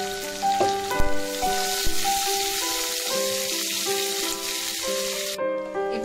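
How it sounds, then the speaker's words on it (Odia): Chopped onions and chilies sizzle steadily in hot oil for an Odia-style fish curry, a continuous close crackle under a bright tonal background of music, with no talking. "ଏବେ ଦେଖନ୍ତୁ ପିଆଜ ଗୁଡ଼ିକ ଭଲ ଭାବରେ ଫ୍ରାଇ ହୋଇଗଲାଣି।"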